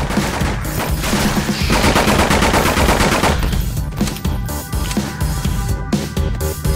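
Sustained automatic gunfire from the horror shooter Nightmare House 2, dense rapid bursts filling the scene, loud and close, with heavy continuous firing that thins into scattered shots toward the end.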